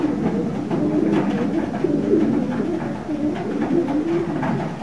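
Pigeons coo repeatedly, soft throaty rolling calls overlapping at moderate distance, with light rustling and background noise throughout.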